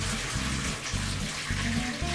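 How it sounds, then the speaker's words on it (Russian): Ordinary tap water runs steadily into a container, a soft continuous pouring and splashing with no voices. "Я даже использую обычную водопроводную воду."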